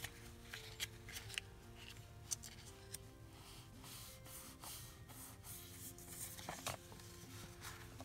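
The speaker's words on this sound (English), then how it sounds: "what I'm going to do is cut it straight and straight and fold that over" Scissors cut paper and washi tape in a quiet room, soft snips and faint rustling with a few sharper clicks scattered over several seconds, near and low in level, with no speech.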